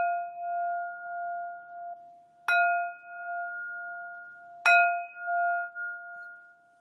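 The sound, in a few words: meditation bell rung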